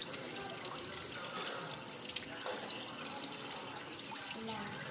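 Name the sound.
water flowing from a tap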